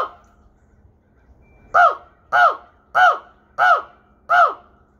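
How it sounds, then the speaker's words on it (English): Crows cawing outdoors, five loud, evenly spaced harsh caws about half a second apart that follow a quiet stretch of low background hum. "You hear all the crows in the background?"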